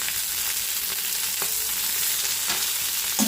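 Tomato and garlic fry in a hot pan with a steady, loud broadband sizzle throughout, broken by a few sharp pops and spatters, with no voices.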